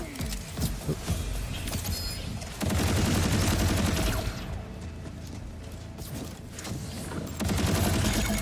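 Rapid bursts of gunfire crackle through a Borderlands 4 boss fight, loud and dense, with clustered volleys and brief lulls between them.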